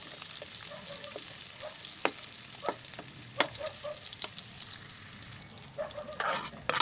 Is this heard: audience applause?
no